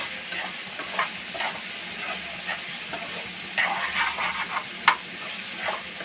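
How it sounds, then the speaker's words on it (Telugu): Coriander and mint leaves frying in oil for egg biryani, a soft continuous sizzle with intermittent spoon scrapes and clinks against the pan, close and moderately loud, no talking. "తర్వాత కొత్తిమీర, పుదీనా వేసి బాగా వేయించుకోవాలి."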